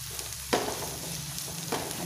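Onions softening in a covered pan of oil: a steady, moderate sizzle with a couple of brief louder spatters, and no talking.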